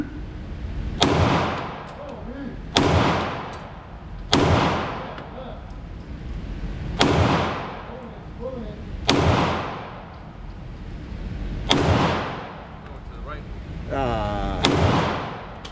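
Seven loud, evenly spaced gunshots from a Glock 19X pistol at a shooting range, each crack followed by a short echoing decay, with a voice briefly heard near the end.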